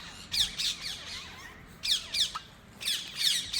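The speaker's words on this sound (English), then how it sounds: "the birds are losing their shit over this" Birds squawk in short, loud bursts during a solar eclipse, calls coming in clustered groups with brief pauses between, close by and with no talking.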